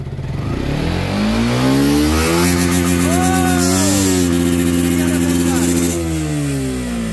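A Suzuki motorcycle fitted with a racing CDI revs hard in first gear, its engine note climbing and holding high before easing back down, loud and close, with voices talking over it.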